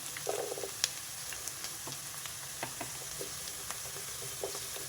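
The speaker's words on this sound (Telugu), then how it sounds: "ఉల్లిపాయలు కొంచెం వేగినాయి ఇవి బాగా రెడ్డిష్గా వేగాలండి దీంట్లో మనం ఒక పక్క గార్లిక్ వేద్దాం" Onions and garlic fry in a pan for garlic chicken curry, a soft, steady sizzle with occasional stirring taps and clinks, heard close with no talking.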